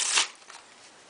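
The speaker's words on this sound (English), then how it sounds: "hand the spectator the deck to shuffle" A quick riffle shuffle of playing cards, a short crisp burst of fluttering cards followed by faint handling noise.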